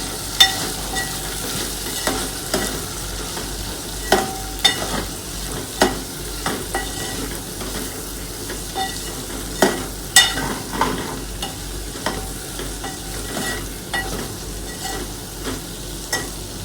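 Masale bhaat rice being mixed with salt in a pan, repeated close spoon knocks and scrapes against the metal in an uneven rhythm over a low, steady sizzle.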